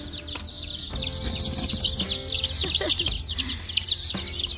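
Young chickens raised from chicks cluck busily in a coop on a village farm that also keeps ducks. Close, loud and continuous clucking and chatter comes from several birds at once, with no one talking.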